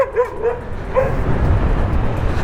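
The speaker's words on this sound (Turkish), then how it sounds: "köpek sürüsüyle karşı karşıyayım. Umarım havlamaz." A few short, high-pitched barks and yips from a pack of dogs at the start, heard while riding an electric scooter, then fading into steady rumbling outdoor noise.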